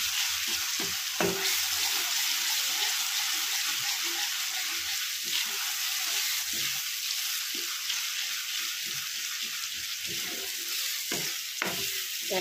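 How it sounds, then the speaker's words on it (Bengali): Spice paste fries in hot oil for a rui fish curry, giving a steady sizzle under repeated scraping and clinking as a utensil tosses it around the pan. "এটাকে ভালো করে তেলের মধ্যে টস করে নেব।"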